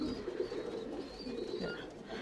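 Tumbler pigeons in a Bangalore loft give soft, repeated throaty coos. The cooing is faint and low against a quiet background hum.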